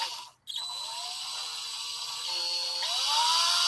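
A power drill spins up slowly from rest, its bit catching and the whine rising in pitch after a brief pause, steady and fairly close with no talk.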